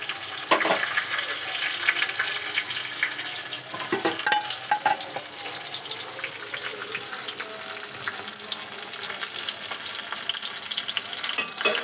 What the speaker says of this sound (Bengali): এইদিকে মাছ ভাজা বসিয়েছি, তো মাছ ভাজা হচ্ছে